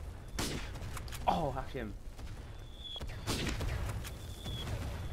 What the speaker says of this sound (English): Stop shooting goddamn artillery at me, you dumbasses, that hurts!